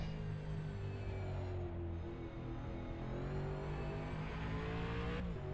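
A Gen 3 V8 Supercar in rFactor 2 on the Bathurst circuit, its engine droning loud and steady at high revs, with a brief dip and rise in pitch as it shifts, no voices.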